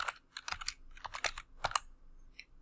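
Keys on a computer keyboard clatter in quick, irregular bursts of clicks, close but quiet, with short pauses between typed groups.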